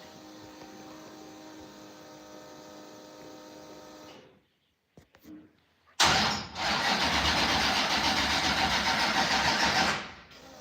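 A big-cam LS 6.0 V8 in a sandrail cranks with a steady mechanical whir, pauses in near silence with a few clicks, then fires into a loud, rough, close idle that runs for several seconds before cutting off.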